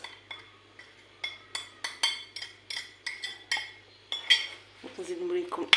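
A spoon stirs spices and ingredients together in a metal pot, giving a run of about a dozen sharp, ringing scrapes and clinks in a steady rhythm, close and clear.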